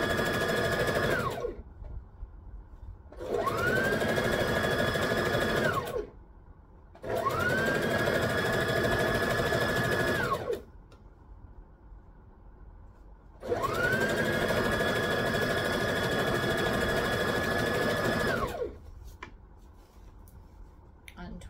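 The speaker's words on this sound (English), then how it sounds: "So I'm just going to come back to here and re-stitch that. Stitch and backstitch." A sewing machine stitches and backstitches a wrap skirt in three long steady runs separated by pauses, close and fairly loud, with faint handling noises between bursts.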